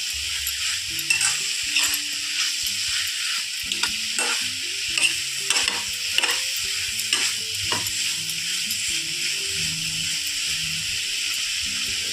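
Sliced mushrooms frying in oil in a pan for a mushroom gravy, with a constant loud sizzle and hiss and repeated scraping stirs of a spoon close by, and no talking.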